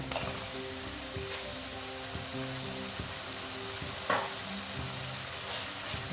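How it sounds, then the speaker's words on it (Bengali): Paneer cubes are sautéed in an oily spice masala in a pan, producing a continuous close sizzle with occasional spatula scrapes and clinks, and faint tonal background sounds underneath. "দিয়ে আবার পনিরের সাথে একটু এটা আমি কষিয়ে নিচ্ছি"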